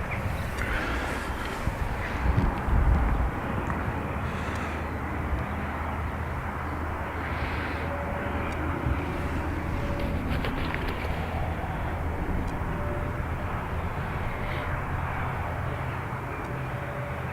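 An ATR turboprop airliner departs Dublin Airport, its engines producing a broad, steady roar at a distance that holds throughout with a faint propeller drone.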